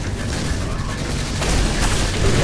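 A sudden explosion in the video game The Nexus, a dense low booming rumble that fills the clip and swells louder toward the end, heard close and loud with no talking.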